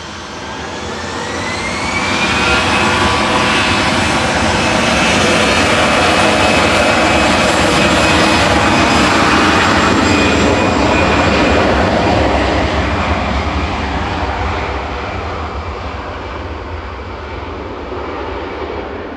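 A roaring jet engine swells and holds at full power as an 11-year-old easyJet Airbus A320 takes off from Manchester Airport bound for Venice. The thunder is close and loud, with a high whine, then slowly fades as the jet climbs away.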